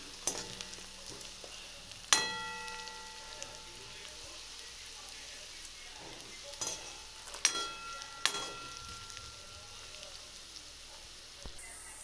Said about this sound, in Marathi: आता आपण याच्यामध्ये कढीपत्ता मिक्स करून घेऊया।